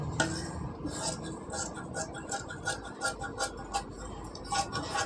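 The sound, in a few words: cutting blouse fabric with scissors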